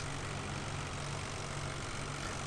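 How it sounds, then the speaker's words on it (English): A tractor engine idling in Farming Simulator 2013, a steady low droning rumble with an even hum that holds unchanged throughout, heard alone at a quiet level. "I'm actually going to pull this tractor up a bit further"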